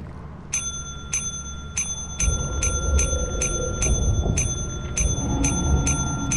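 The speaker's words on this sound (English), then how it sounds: "And you gotta ring the bell a bunch." A bell in a video game rung over and over to sell items, a dozen or so bright metallic dings in a quick, slightly uneven rhythm over a low background rumble.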